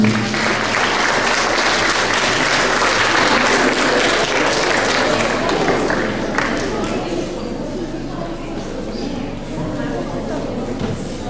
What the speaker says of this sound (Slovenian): Pa en aplavz, prosim.